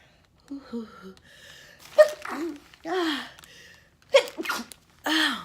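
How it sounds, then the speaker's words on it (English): Two forceful sneezes, each preceded by a sharp inhaled gasp, close and loud, with a quiet breathy sound between them. "here go that sneeze, y'all."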